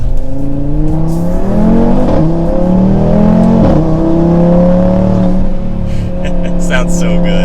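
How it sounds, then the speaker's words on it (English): 2024 Audi RS3 accelerating hard up a steep hill from first gear, loud close engine note rising through the revs with a couple of quick gear changes, steady roar throughout. "let's do one last acceleration up the steep hill, and then around the corner from first gear."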